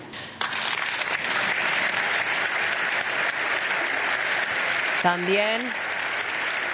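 A sustained round of applause from a large gathering, held for Turkey after its deadly earthquake, keeps up a dense, even wash of clapping throughout while a voice briefly speaks over it.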